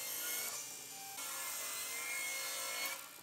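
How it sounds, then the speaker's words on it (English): A table saw rips along a reclaimed wood board, a close, loud, sustained whine of the blade cutting through the wood, shifting pitch slightly partway through before easing off at the end. "I make a few rip cuts at the table saw to get clean edges and get the board to a consistent width."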